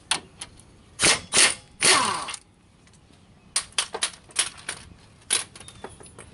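A socket ratchet works a nut loose from a car's tie rod end, giving loud close bursts of rapid clicking separated by pauses, followed by shorter scattered ratchet clicks and metallic taps.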